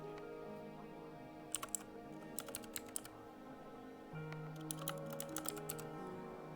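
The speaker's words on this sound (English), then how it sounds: "Y'all can hear me typing." Computer keyboard typing during a livestream, with short bursts of clicking keystrokes in quick irregular clusters over a steady low background hum, fairly close and moderately loud.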